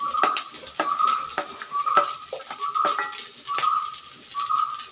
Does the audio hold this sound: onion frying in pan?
yes